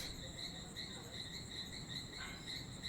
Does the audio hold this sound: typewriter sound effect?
no